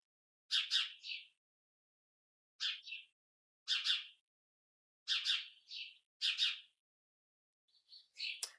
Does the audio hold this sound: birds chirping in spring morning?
yes